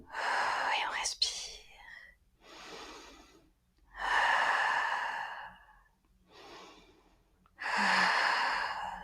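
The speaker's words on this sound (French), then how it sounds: "Et on respire." Deep, slow breaths during a yoga stretch, close and clear, alternating long airy inhales and exhales in a steady rhythm of about four cycles, with no talking.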